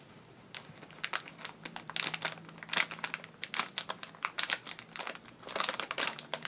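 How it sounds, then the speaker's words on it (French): Scissors cutting open the plastic packaging of Fortnite figurines bought at a flea market, giving close, irregular crinkling and snipping bursts of stiff plastic that continue steadily throughout. "Voilà, il coupe bien ton ciseau"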